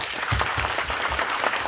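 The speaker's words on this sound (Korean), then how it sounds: "박수로 환영합시다." Applause at an inauguration ceremony of a Korean War veterans' association chapter in Los Angeles, a short burst of crowd clapping with some low thumps, steady and fairly close.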